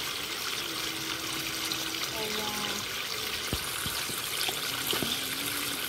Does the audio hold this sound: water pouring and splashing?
yes